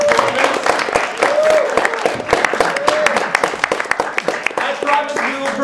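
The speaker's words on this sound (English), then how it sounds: "give yourselves a round of applause for making it out to the sold-out performance" Audience applause in a small sold-out theater before a performance, a lively crackle of many hands clapping with scattered sharp claps, a voice and faint music mixed underneath.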